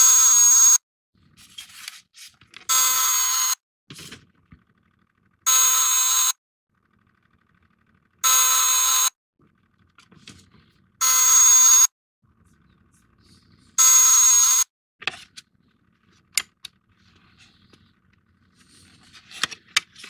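A Star Trek geological tricorder replica sounds its alarm, a loud electronic buzzing tone that repeats in six evenly spaced bursts of about a second each, with quiet handling rustles and clicks in the gaps.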